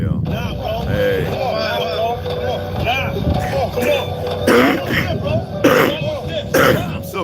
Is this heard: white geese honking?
no